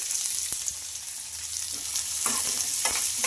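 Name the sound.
onions, green chillies and fennel frying in a pan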